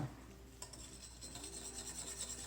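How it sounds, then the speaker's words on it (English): Chocolate pudding mix being whisked with milk in a bowl, a faint close continuous scraping and swishing of quick whisk strokes with no talking. "I'm just whisking it."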